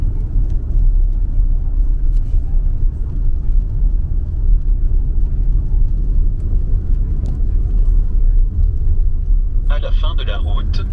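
Car cabin road noise while driving home into Lithuania after the Kotlovka border checkpoint from Belarus: a loud, steady low rumble fills the whole stretch, with a short brighter sound near the end.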